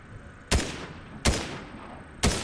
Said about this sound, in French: Deux balles ratées, la troisième balle qu'elle touche à 35.